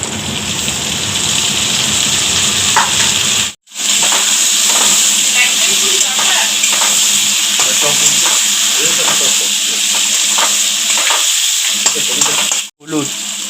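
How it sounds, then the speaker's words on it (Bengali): Potato, eggplant and radish frying in the mustard oil left from frying hilsa fish, with cumin and chopped onion; a loud, steady sizzle and crackle runs throughout, broken by two brief silent gaps. "ভাজা হয়ে গেছে, এর মধ্যে দিয়ে দিব আলু বেগুন মূলা।"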